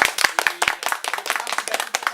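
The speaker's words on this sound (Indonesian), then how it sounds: "Tepuk tangan dong di studio." A studio audience claps in quick, scattered hand claps during a live television program, close and lively with no voices over them.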